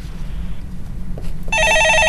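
In the studio of a stock-market radio call-in show, a telephone breaks in with a loud, bright electronic ring over a low background hum.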